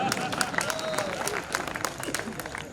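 An audience claps during a Hindi speech, a busy patter of applause under and around a voice.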